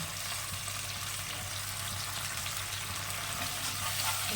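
Mustard paste with salt and turmeric frying in a pan, a steady, fairly quiet hissing sizzle with no distinct stirring strokes and a faint low hum beneath.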